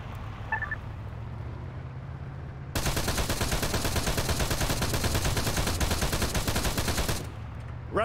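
Rapid automatic gunfire in the military shooter Antistasi, a sustained burst of loud rattling shots lasting several seconds after a quieter stretch of low background rumble, with no talking over it.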